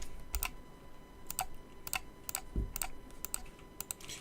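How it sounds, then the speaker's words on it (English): A computer mouse with colored lights clicks at a desk, a few sharp, quiet clicks in scattered small clusters against a faint background hum. "If you hear me clicking, it's because I've got a mouse with colour lights on it"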